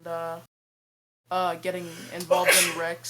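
A sharp sneeze bursts out near the end, right after a man finishes asking a question during a sim-racing broadcast interview, with speech before and around it.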